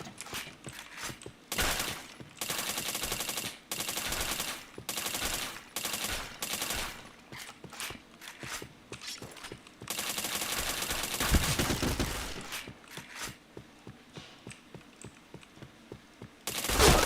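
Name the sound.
gunfire in a shooter video game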